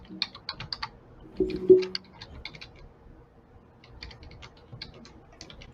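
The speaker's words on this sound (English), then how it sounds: "We can hear you typing, Andre." Typing on a computer keyboard during live courtroom coverage, rapid clusters of light clicking keystrokes in bursts with short pauses, close and moderately loud, with a faint low voice briefly underneath.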